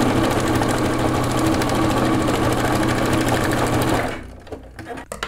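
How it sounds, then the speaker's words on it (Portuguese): Sewing machine stitching a fabric seam on a patchwork bag, a loud steady rapid needle rattle running for about four seconds before stopping, followed by faint handling noises. "Vou fazer aqui uma costura de segurança para poder unir a parte externa."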